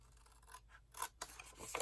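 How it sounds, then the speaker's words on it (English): Scissors snipping paper flaps off a handmade favor box, several quiet close cuts in uneven rhythm with faint rustling between them. "So we're just going to snip these right off."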